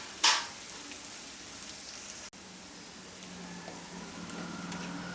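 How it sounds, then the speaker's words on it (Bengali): Mixed vegetables for restaurant-style fried rice frying gently in a pan over low heat, a steady soft crackling sizzle throughout with one brief louder burst near the start and no talking. "সবজিগুলো সেদ্ধ হবে, আবার কালারও ঠিক থাকবে, এমনভাবেই আমি এগুলোকে ফ্রাই করে নেব"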